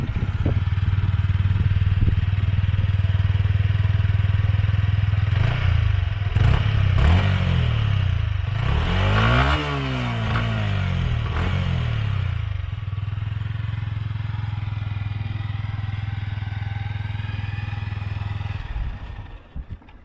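A 2022 Yamaha XSR 125 motorcycle engine starting and settling into a steady, close idle, with a brief revving burst midway before it drops back to an even low thrum.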